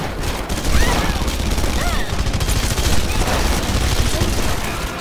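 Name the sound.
gunfire in a video game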